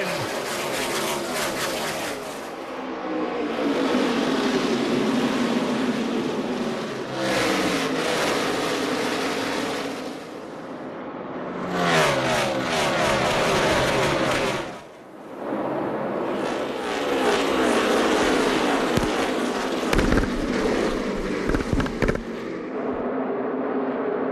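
A pack of NASCAR stock cars roars through a race start in the desert, a dense, loud, sustained engine thunder that surges and fades as cars pass, with brief dips between waves of noise.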